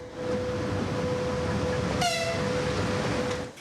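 A passenger train rumbles past in a steady loud roar, with a brief high horn-like tone cutting in partway through.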